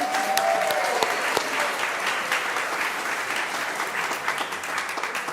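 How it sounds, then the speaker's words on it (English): Steady applause from a church service congregation fills the room, many hands clapping evenly for several seconds, with a brief tone at the start. "let's give her a round of applause."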